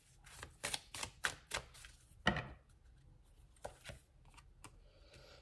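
Tarot cards drawn from a deck and laid down, a series of faint, close papery snaps and slaps in uneven succession, with one sharper flick midway and quieter shuffling toward the end.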